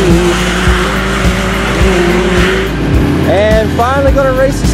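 A stock 2017 Yamaha YXZ1000R side-by-side races with a loud, steady engine roar, then tires squeal in rising and falling bursts near the end, close and intense.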